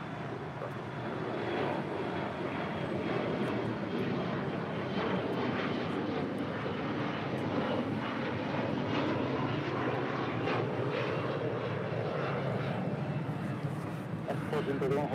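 Heavy arrival jets at LAX, a steady broad jet-engine roar with constant background rumble, fairly distant and continuous, with voices talking over it.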